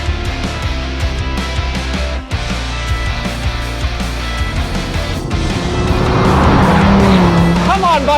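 A VW Golf R and a Dodge Viper racing, loud sustained engine roar at full throttle with a rising, straining note and a brief shift dip, tire noise building near the end.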